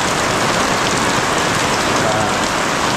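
Heavy rain pours down steadily, a dense continuous hiss of drops drumming on surfaces close by, loud and unbroken from start to finish.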